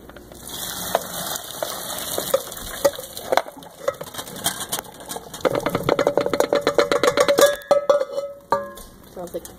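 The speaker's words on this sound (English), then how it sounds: "Make sure you have an adult to pour the macaroni into the strainer." Cooked macaroni tipped from a pot into a metal strainer in a home kitchen, giving a run of clattering, sloshing knocks and rattles that grow denser and louder midway, with sharp metallic clinks near the end.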